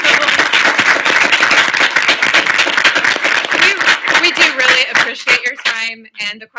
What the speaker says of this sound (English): please give a big round of applause to our presenters.